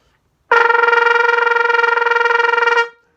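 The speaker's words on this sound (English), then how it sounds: "A good example of that is this thing I do called machine gun tonguing" A brass horn plays a single sustained pitch articulated in an extremely fast, even stutter of tongued notes, like rapid-fire pulses, for about two seconds.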